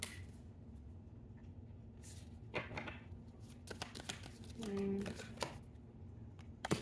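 Tarot cards being shuffled and drawn by hand: quiet riffling, flicking and tapping of cards, with a voice talking in the background at times.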